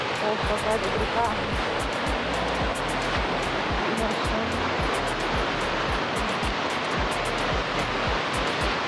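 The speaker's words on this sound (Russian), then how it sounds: "Ох, какая тут река." Broad rushing water of a mountain river by Argatsin monastery in Armenia, a steady close roar of churning flow with faint voices underneath.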